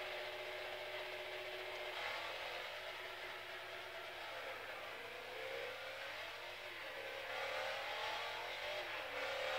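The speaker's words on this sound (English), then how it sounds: "I'm driving a 2002 Pontiac Trans Am Firebird" Engine of a 2002 Pontiac Trans Am Firebird in the Forza Motorsport 4 racing game, a steady, moderately quiet droning rev that rises and falls slightly over several seconds with no talk.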